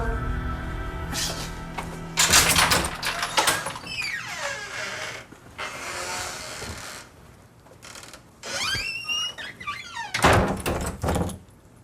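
A door being opened in a Thai drama scene, with squeaking, rattling and clunking mechanism noises, scraping slides and heavy thuds in several loud bursts, close by with no talking.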